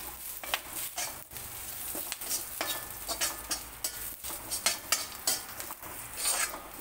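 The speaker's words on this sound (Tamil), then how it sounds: "இப்போ கருவேப்பிலை சேர்த்துக்கலாம்." Curry leaves drop into hot oil already crackling with mustard seeds, browned garlic and dried red chillies, for a masala pori tempering. Close, dense sizzling and spattering comes with repeated spoon scrapes and stirring clatter against the pan, and there is no talk.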